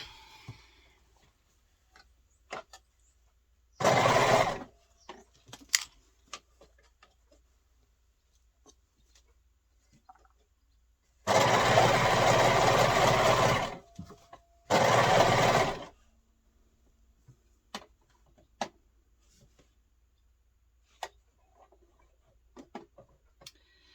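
A sewing machine stitches fabric for a baby romper in three separate whirring bursts, one short and two longer, with quiet ticks and clicks between them and a few faint bird clucks in the background.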